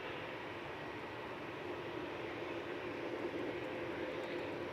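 Aircraft at Manchester Airport heard as a steady distant jet engine roar, a continuous broad rumble holding level throughout with no voices.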